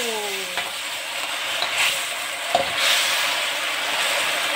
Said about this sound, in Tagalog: Ayan na ang fried tofu.